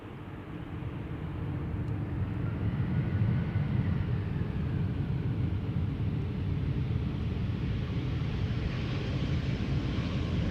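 A passenger airplane arriving at Amsterdam Schiphol Airport, heard from the ground as a steady, loud, broadband roar that holds evenly throughout with no speech.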